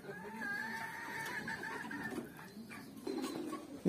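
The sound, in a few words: chickens clucking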